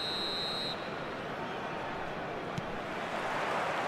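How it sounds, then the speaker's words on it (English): A referee's whistle in an eFootball match sounds as one clear, shrill blast at the start, then cuts off, leaving a steady roar of stadium crowd noise. "There's the whistle."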